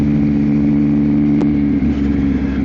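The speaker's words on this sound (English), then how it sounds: "Hopefully you can also hear the bike's engine." A Yamaha XSR900 motorcycle fitted with a Kelpie exhaust, its engine droning steadily and close with a strong low hum, alone without talk apart from one brief click midway.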